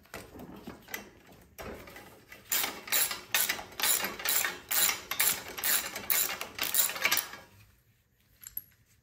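A spark plug being loosened from a riding lawnmower engine with a ratchet, about a dozen crisp, evenly paced ratcheting strokes heard up close, then quiet.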